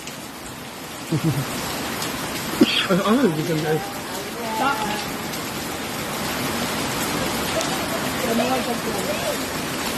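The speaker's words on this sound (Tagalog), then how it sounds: "Ang lakas ng ulan sobra." Heavy rain hisses in a dense, steady roar throughout, with voices briefly talking over it early on.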